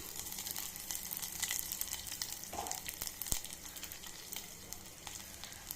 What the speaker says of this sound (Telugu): జీలకర్ర కొట్టింది వేసుకొని ఎక్కువసేపు వేయించుకోవాలి